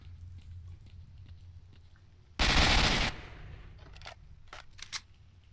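Enemies in S.T.A.L.K.E.R.: Shadow of Chernobyl fire automatic weapons, one loud close burst of rapid gunfire lasting under a second, followed by scattered fainter shots and clicks.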